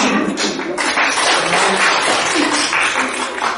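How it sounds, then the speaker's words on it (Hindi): Dense, loud clapping from a crowd, a continuous wash of many hands applauding together without pause. "नारायणी लेकर के आए, ताली बजाएं।"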